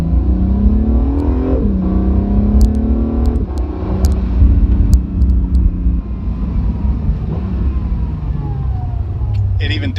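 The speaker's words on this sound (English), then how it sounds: "So if I accelerate now, it should just accelerate." A 2018 Acura NSX engine revving up under acceleration, pitch climbing in rising sweeps then dropping as it downshifts with rev matching, loud and close from inside the car, steady engine drone throughout.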